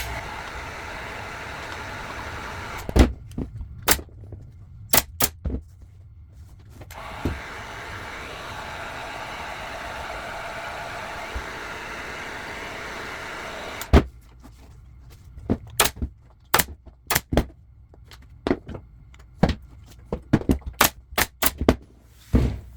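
A staple gun fires repeatedly while fabric is stapled onto a kitchen chair seat. Sharp, close snaps come singly and in quick bursts over a low background hum, with pauses between groups.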